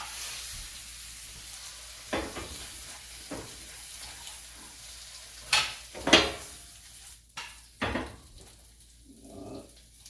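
Eggs frying in a pan with cheese being added, a steady close sizzle and hiss broken by a few scraping stirs and pan knocks, no talking.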